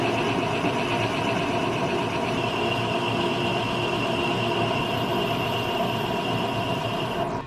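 A lathe parting blade cuts grooves into a finned two-stroke engine cylinder, giving a loud, continuous machining roar with a steady whine that never lets up.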